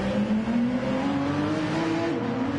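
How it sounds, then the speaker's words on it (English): Porsche in Gran Turismo 7 spinning and doing donuts on a racing circuit: a steady, loud engine drone with a sustained rising and falling tone throughout, without any talk. "The German driver showing us how to do some donuts there at the last couple corners"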